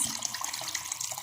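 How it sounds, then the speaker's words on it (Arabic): Water pouring steadily into a cooking pot for harira soup, a faint continuous splashing stream heard alone. "تقريبا درت لتر ونص"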